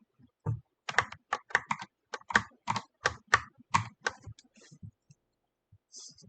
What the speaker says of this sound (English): Me clicking around again.